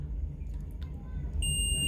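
A multimeter continuity buzzer sounds during a test of a 25 volt 2200 microfarad capacitor, coming in as a steady high tone about halfway through over a low background hum.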